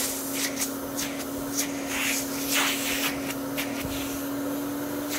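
A thrift-store vacuum cleaner with a straight suction head runs steadily with a constant motor drone and weak suction, overlaid by intermittent hissy airflow and rubbing noises close by.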